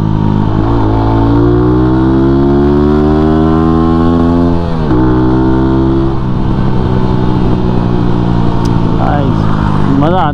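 Exhaust of a Lifan KPR 200 motorcycle while riding, a loud, close engine drone rising and falling in pitch with gear changes and throttle, with wind rush throughout.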